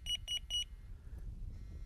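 A Delkim fishing bite alarm gives three quick, clear electronic beeps close by, followed by quiet room tone.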